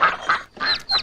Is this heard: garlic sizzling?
no